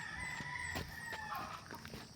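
Chickens clucking and a rooster crowing in a busy coop, with steady background noise and several bird calls overlapping.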